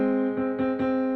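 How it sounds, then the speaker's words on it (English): An instrument sustains a steady harmonic tone while three soft attacks land in quick succession, forming a major third interval, close and clean with no voices. "if I play a major third, it would sound like this."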